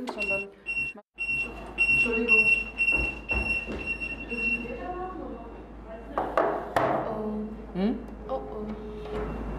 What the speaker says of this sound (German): Passiert das häufiger, dass du piepst?